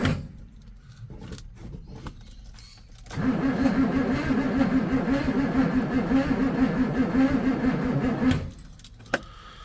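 A car engine cranks and sputters after starter fluid is sprayed in to get compression, a loud steady rumbling run of about five seconds between quieter stretches with scattered clicks.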